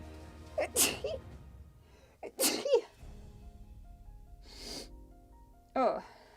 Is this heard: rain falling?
no